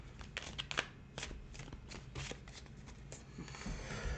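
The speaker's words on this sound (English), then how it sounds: "A couple more shuffles here." Tarot cards are shuffled by hand in a quiet room, with quick riffling bursts and soft slaps of the deck repeating close up for a few seconds.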